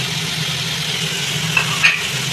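Fried bitter gourd and lentil dumplings are sautéed in a pan with a steady, close sizzle and a couple of light scrapes of a stirring spoon near the end.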